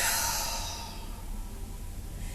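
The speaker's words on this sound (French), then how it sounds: "J'inspire par le nez, je souffle." A long breath pushed out through the throat during a home Pilates routine for the lower abdomen, a breathy hiss that starts strong and fades over a couple of seconds, close and alone.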